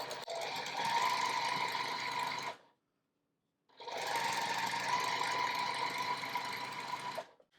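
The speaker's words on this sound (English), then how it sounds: "I have the first two strips sewn together" A sewing machine stitches quilt fabric strips together in two loud, steady runs of rapid mechanical whirring, split by a brief pause, with no talking.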